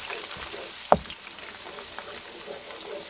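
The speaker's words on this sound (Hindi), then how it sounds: "अपनी प्याज जो सी है जो हमने ग्राइंड कर ली थी वो हमने डाल दी है और उसको हल्का सा लाइट ब्राउन करते हैं" Ground onions sizzle and crackle softly in ghee in a pan for fish biryani, a steady faint frying hiss throughout with one sharp pop near the start.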